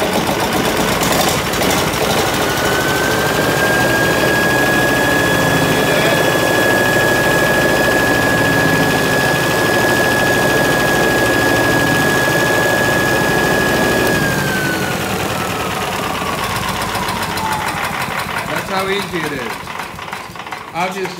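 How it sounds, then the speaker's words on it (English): A generator engine runs at idle with no load, a steady close mechanical drone with a sustained whine holding for several seconds, then gliding downward as it winds down, while a voice talks over it. "I had the engine running strictly on idle"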